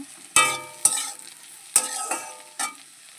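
Slit green chillies go into aubergine and potato frying in a pan, giving a soft sizzle with four sharp metallic spatula knocks and stirring scrapes spaced across the moment.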